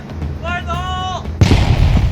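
A rock-blasting charge detonates in coarse-grained, quartz-rich granite at a Colorado gold dig. A drawn-out shouted voice comes first, then one sudden, loud, close boom that rolls into a sustained roar of rumble and falling debris.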